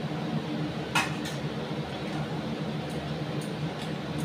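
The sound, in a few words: covering a cooking pot with its lid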